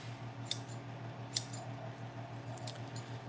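Freshly sharpened sewing scissors make a few faint crisp snips, three or four separate cuts over a low steady hum in a quiet room.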